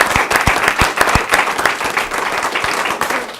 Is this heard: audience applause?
yes